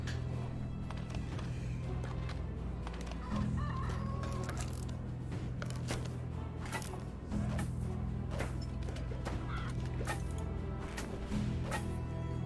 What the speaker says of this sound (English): How's our chickens?